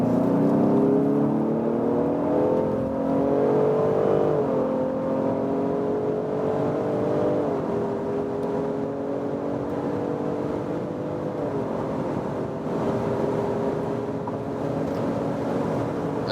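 A 2020 Ford Explorer ST-Line plug-in hybrid SUV accelerates steadily to high speed. A continuous engine and drivetrain whir climbs in pitch in stepped rises as it shifts, heard from inside the cabin with constant road and wind noise and no talk.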